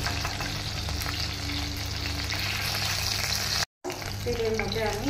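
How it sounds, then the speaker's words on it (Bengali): Fish frying lightly in hot oil for a Bengali kasundi fish dish, a steady close crackling sizzle that runs throughout, broken by a brief silent gap before the frying resumes. "হালকা করে ভেজে নেব।"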